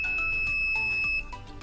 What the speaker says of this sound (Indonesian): saat saya kasihkan air maka dia akan bunyi ya, tit, terus dia akan kedap-kedip